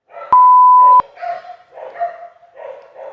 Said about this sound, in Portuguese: Agora todos os cachorros da rua resolverão latir